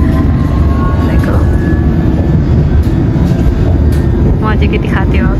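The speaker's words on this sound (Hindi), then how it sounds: "ये रहा लंदन का मेट्रो।" Loud, steady rumble of a London Underground metro train riding along, with constant low-frequency roar and some faint squeals near the end, heard from inside the carriage.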